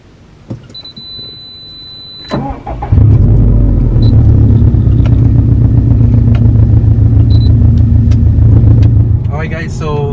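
A Subaru STI, mostly stock, drives around a residential area, its engine a steady loud rumble heard from inside the cabin after a brief electric window whine, with a voice talking over it.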